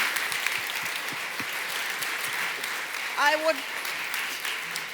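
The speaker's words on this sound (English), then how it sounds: "this is your applause" Steady applause from an audience at the ITB Berlin Africa Forum fills the hall at moderate level, with a voice briefly rising above it partway through.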